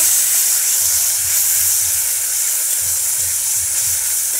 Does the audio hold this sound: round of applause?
no